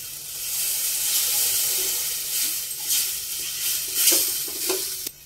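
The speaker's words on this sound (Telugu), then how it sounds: "కొంచెం వాటర్ వేసుకుందామండి." A hiss of frying gives way to water being poured into a hot pan of tomato curry, followed by stirring clinks and bubbling sizzle, close up.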